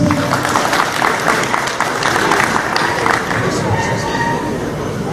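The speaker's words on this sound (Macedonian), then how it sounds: "И за него еден аплауз" An audience claps steadily at the opening of a dog show, a dense, sustained round of applause from a crowd, with some voices mixed in.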